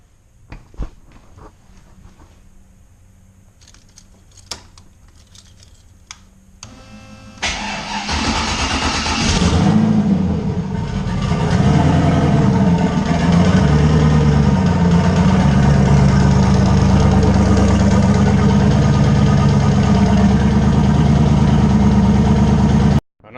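An LS-swapped Fox Body Mustang with a turbo sits quiet with faint clicks before the engine cranks and fires at about seven seconds, surging loudly then settling into a steady, rumbling idle close by.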